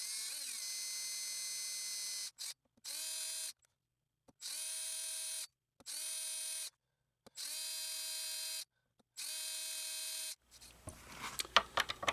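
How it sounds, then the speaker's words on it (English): An electric drill whirs in short separate bursts with pauses between them, boring tuner holes into a Fender Telecaster headstock, close and loud, then gives way to clicks and handling noises at the end. "I can drill them out to be able to accept the little nubs here on the tuners"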